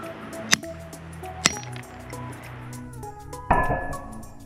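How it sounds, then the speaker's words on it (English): Steel chisel cracking open a geode: a few sharp separate strikes, close and moderately loud, then a louder crack and rattle near the end. "I'm gonna crack it with a chisel."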